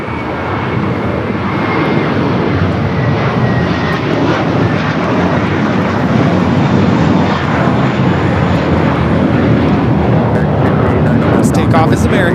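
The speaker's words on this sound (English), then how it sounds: "This arrival, Avianca 522 coming in from San Salvador" Avianca 522 airliner arriving at LAX from San Salvador, a loud sustained jet engine roar that holds steady throughout, with people talking over it.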